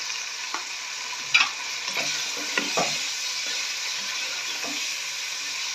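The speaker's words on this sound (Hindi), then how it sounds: "अभी 2 से 3 मिनट के लिए सिर्फ चिकन को फ्राई करते हैं।" Chicken pieces salted and frying in a pan for fried rice sizzle steadily, with a few scraping clinks and knocks of a spoon stirring them close up, no speech.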